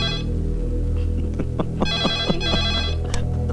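A telephone ringtone plays a steady, looping melodic chime, loud and close, with faint plucked notes over a low hum and no talking.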